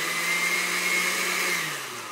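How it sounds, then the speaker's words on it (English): A kitchen blender grinds leaves in water with a steady, loud, high motor whine that drops slightly in pitch as it winds down near the end. The whine is close and continuous, with no voices over it. "we're grinding up leaves in water in the blender"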